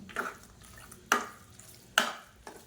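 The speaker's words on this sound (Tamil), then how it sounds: "இப்போ தான் மிக்ஸ் பண்ணிக்கலாம்" A spoon stirs ghee-fried cashews and raisins into pongal in a pot, giving three or four soft, wet scraping strokes spaced under a second apart, close and fairly quiet, with no talking.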